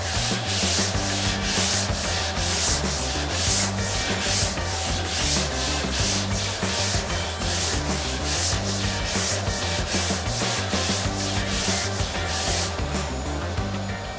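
Body filler on an XC Falcon panel van panel is block sanded with 120 grit sandpaper, producing loud, close, rhythmic back-and-forth scratching strokes that continue evenly throughout, with no speech.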